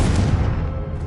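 Explosive Bombarda and Confringo spells going off in the Hogwarts Legacy video game, a dense, loud burst of booming blasts that rolls on continuously and fades slightly toward the end.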